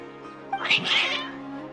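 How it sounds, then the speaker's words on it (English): Cats meowing and yowling in the video game Genshin Impact, a single agitated, drawn-out cry rising and falling over roughly a second, close and clear over a soft steady background hum. "Your cats seem pretty worked up."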